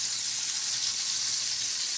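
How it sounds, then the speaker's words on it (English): Butter sizzles steadily in a pan with apple cider, a continuous close, bright frying hiss with no pauses. "Now we've got our butter sizzling away over here."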